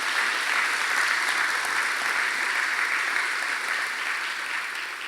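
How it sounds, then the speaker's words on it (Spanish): A church congregation claps loudly and steadily throughout, in a dense, sustained ovation that eases only slightly at the end. "Démosle fuerte ese aplauso al Señor"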